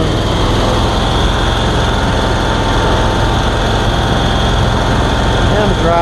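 Lawn mower engine running steadily while cutting grass outdoors on a breezy day, a constant loud drone with wind buffeting and no break.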